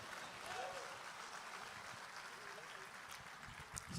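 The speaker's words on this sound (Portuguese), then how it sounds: "Você pode aplaudir em nome do Senhor Jesus Cristo?" Church congregation at an evening worship service applauding, a soft, distant, continuous patter of many hands heard faintly in a reverberant room, fairly even throughout with one brief louder bump near the end.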